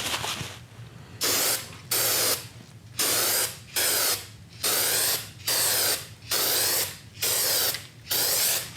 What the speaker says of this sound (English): This is the 4th coat of spray on the top, I think.